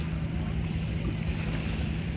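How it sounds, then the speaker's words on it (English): A smart paddleboard's electric motors rev on the water, a steady loud whir with a constant low hum, mixed with water and wind noise, continuous and close. "when I pull on this, it spins the motors, it revs the motors up"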